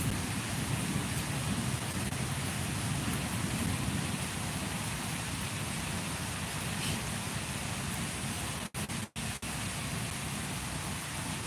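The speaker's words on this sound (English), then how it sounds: "All this rain, y'all." Heavy rain falling outside, a steady dense hiss that runs evenly throughout with only a brief dip near the end, and no clear talk over it.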